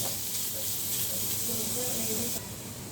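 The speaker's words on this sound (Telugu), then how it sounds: "తురిమి పెట్టుకున్న క్యారెట్ నేతిలో ఫ్రై చేసుకోవాలి" Grated carrot frying in ghee in a pan, heard as a continuous close hiss and sizzle throughout, with a voice speaking faintly underneath.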